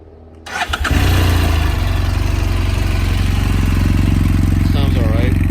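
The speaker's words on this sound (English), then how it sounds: "just to show you how the exhaust sounds." A BMW F800GT motorcycle fitted with an aftermarket exhaust cranks briefly, catches and settles into a loud, steady, close-up idle with a rapid even throb.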